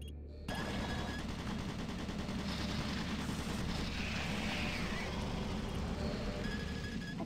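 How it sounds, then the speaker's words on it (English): Automated turret guns in the video game Doom 3 BFG Edition fire in a dense, continuous rattle of rapid shots, loud and steady throughout after a brief quiet start. "automated turret guns online"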